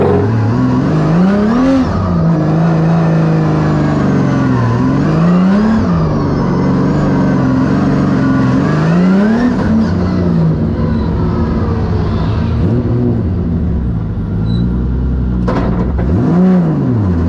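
A Formula Drift race car drifting with nitrous engaged, its loud engine revving and wailing up and down in repeated rising and falling sweeps as it slides through corners, close and continuous with no talk.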